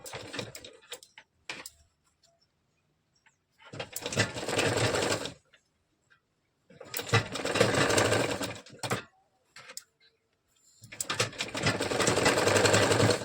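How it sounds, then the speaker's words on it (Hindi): An electric sewing machine stitches the belt strip of a katori blouse. It runs in three loud, steady bursts a few seconds long, close by, with quiet handling clicks and pauses between them. "इसको इस तरह से रखकर आधा इंच पे सिलाई चलानी है"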